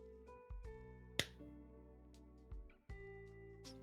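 A single sharp hand clap cracks out amid a sustained humming tone during Pikmin 4 gameplay, followed by a few softer taps.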